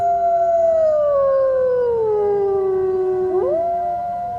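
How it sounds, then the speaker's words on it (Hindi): Foxes howling on a moonlit night in a Hindi cartoon story for children: one loud, long, wavering howl that slides downward and then swoops back up near the end, close and alone, with no talking. "एक चांद की रात लोमड़ी ने कई लोमड़ियों को चिल्लाते सुना"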